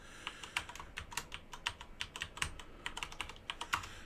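A password being typed on a computer keyboard: a rapid, uneven series of light key clicks, close and fairly quiet, running continuously for about four seconds with no speech.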